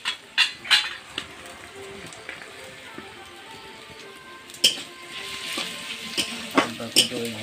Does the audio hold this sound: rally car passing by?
no